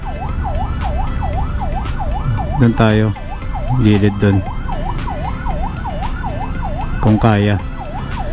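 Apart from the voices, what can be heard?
ambulance siren in traffic on EDSA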